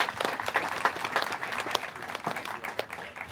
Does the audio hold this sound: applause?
yes